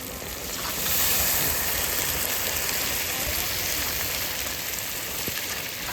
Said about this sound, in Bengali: আর আমি এবার এদিকে জল দিয়ে দিই।